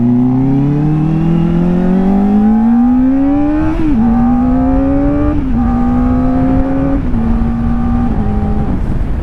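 Honda CB1000F retro muscle bike ridden on a road under construction, engine climbing in pitch under hard acceleration, then three quick upshifts, each dropping the tone briefly before it rises again, loud and close.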